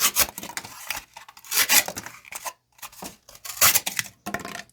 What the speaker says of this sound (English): let's close it up with cutting through some cardboard